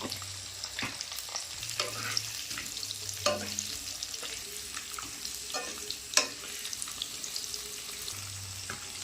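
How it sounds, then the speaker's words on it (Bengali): Boiled potatoes dusted with turmeric frying in oil, a continuous close sizzle with irregular spatula scrapes and clacks against the pan, a faint low hum coming and going underneath, no talking. "অল্প করে একটু হলুদ গুঁড়ো দিয়ে আলুটাকে ভেজে নেব"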